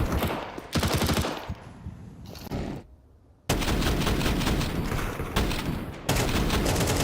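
Gunfire during a professional Counter-Strike match, loud rapid bursts of automatic and pistol shots in dense clusters with a short silent gap in the middle, no commentary heard.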